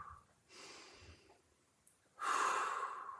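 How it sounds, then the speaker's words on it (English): Slow, deep breaths during a floor-based mobility exercise: a soft inhale, then a louder, longer exhale that stays close and alone. "And just breathe."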